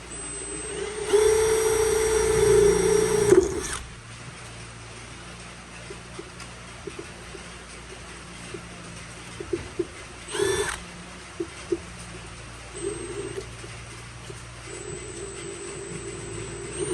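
A power drill boring holes in PVC pipe for a chicken watering system, one loud whining burst of a few seconds followed by quieter clicks, knocks and a few brief tool noises.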